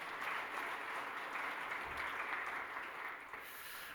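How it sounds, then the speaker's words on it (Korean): A church congregation claps during a Sunday worship service to welcome a missionary couple, a soft, distant, continuous patter of hands lasting a few seconds with no speech. "우리 박수로 환영하겠습니다"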